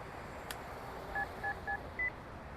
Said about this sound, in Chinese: 悠悠啊，你快打电话问他吧。